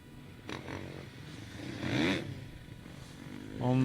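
A 250F four-stroke motocross bike passes during a pro-class quarry race, its engine note rising briefly to a peak around the middle and climbing again at the end, with mixed background noise throughout.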